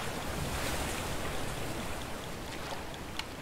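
Steady rushing water from a waterfall in the video game A Way Out, a dense continuous roar at moderate level with no talk over it.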